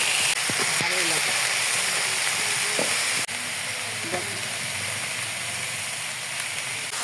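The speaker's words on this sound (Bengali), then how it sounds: "একটু হালকা ভেজে নিচ্ছি" Onions lightly frying in oil in a pan give a steady, dense sizzle across the whole stretch, close and fairly loud, with a few faint stirring clinks and a brief dip partway through.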